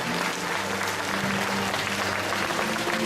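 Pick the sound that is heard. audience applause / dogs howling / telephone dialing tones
audience applause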